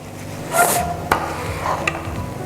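Food stirred in a pot with chicken stock for cooking rice, a few soft scraping and knocking strokes close by with light sizzling, no talk.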